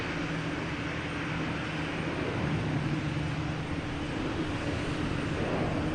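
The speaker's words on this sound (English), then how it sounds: "American Airlines coming in from Dallas Fort Worth." American Airlines plane arriving at Boston Logan from Dallas Fort Worth, heard as a continuous, even engine roar with no talk over it.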